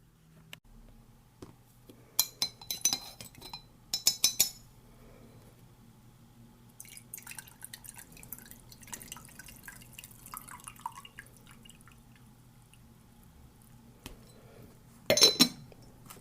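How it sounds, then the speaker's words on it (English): A spoon stirring green tea in a cup, heard as scattered light clinks and drips, first in a few short bursts, then a longer stretch of soft tinkling, then a final sharp clink, close and alone. "I really do think I need some green tea. So let's give this a bit of a stir."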